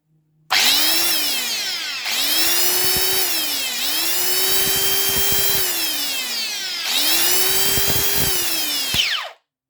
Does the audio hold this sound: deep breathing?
no